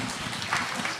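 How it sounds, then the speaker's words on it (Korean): Church congregation at a healing seminar applauding together, a dense burst of clapping that fills the whole moment at fairly close range, with no speech over it. "네, 박수."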